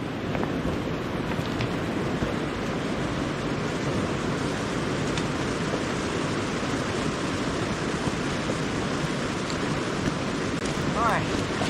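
A river on a fall salmon-fishing trip rushes in a constant broadband roar, close and loud, with a faint voice briefly audible near the end.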